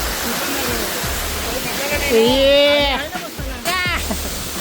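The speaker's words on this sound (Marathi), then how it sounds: "भाई एक नंबर आहे वॉटरफॉल." Steady rushing roar of Usgaon waterfall heard up close, a constant broadband wash under someone talking loudly over it throughout.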